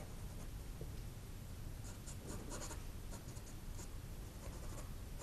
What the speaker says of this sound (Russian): Просто карандашом я прорабатываю какие-то детали, элементы